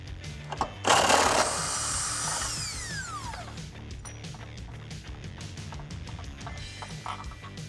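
An impact wrench with an 18mm socket runs a long frame bolt out of a Jeep Wrangler JL during a rock slider install: a loud burst of rapid hammering that eases into a steady, lighter rattling whir as the bolt spins free, close by.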